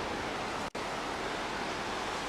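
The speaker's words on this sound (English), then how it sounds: "Anyways, there's the ocean." Steady broadband ocean surf washes along a damp West Coast Trail campsite on the coast, a continuous rushing roar broken by one brief dropout, with no voices.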